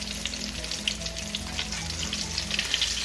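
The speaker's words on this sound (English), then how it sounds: "We should be done frying." Constant crackling sizzle of fish frying in hot oil, dense and steady throughout with a faint hum beneath.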